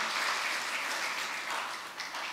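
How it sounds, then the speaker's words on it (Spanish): A church congregation applauds during a Spanish-language sermon, giving a soft, even wash of clapping that stays fairly distant and dips slightly near the end. "Dale ese aplauso al Señor"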